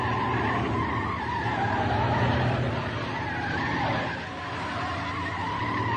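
A car overtakes another in a radio play, its engine roaring loud and near while tires squeal and skid in a sustained screech that dips briefly near the end.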